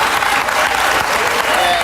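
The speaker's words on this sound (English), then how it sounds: "Why are these people clapping?" A television talk-show studio audience claps loudly and continuously, with a voice talking over the applause.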